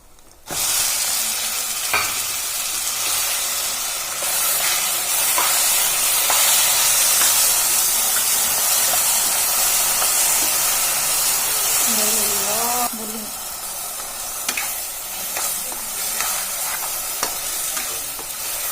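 Spice paste hitting a pan of frying fenugreek seeds sets off a loud, sustained hiss and sizzle. The sizzle eases after a while into quieter frying with occasional stirring scrapes.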